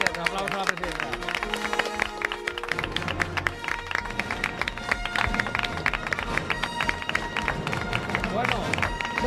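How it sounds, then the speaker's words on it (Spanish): A small group applauds in a radio studio, brisk dense clapping mixed with excited voices and chatter, loud and close, continuing for several seconds. "Bueno, un aplauso, ¿no?"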